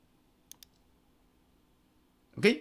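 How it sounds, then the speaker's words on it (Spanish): A computer mouse clicks on a run button: two faint, quick clicks, a pause over low hum, then a louder brief burst at the end. "si yo doy clic acá en ejecutar, se va a crear dicho esquema de asignación de datos"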